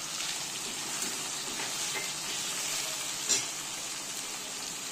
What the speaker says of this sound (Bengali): এরপর এতে দিয়ে দেবো টমেটো কুচি। ভালো করে নেড়ে চেড়ে নেব।